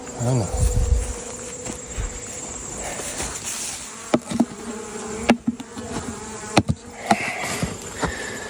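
Honeybees swarm around an opened beehive in a bee yard, with a dense, steady buzzing close by, broken by a few sharp clicks and knocks from the hive being handled.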